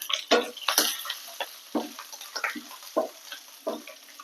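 Lengthwise-sliced garlic and coconut pieces fry in a pan for egg curry, with close, rhythmic scraping stir strokes about every half second over a faint background sizzle.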